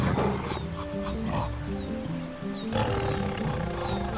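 A tiger roars in the Ancestors: The Humankind Odyssey video game, a continuous rumbling growl over dense jungle ambience with chirping wildlife, holding steady with a brief dip midway.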